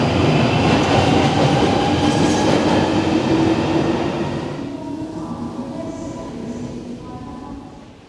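A London Underground train at Highgate station, a steady loud rumble of carriages that eases and fades toward the end, with faint brake squeal tones.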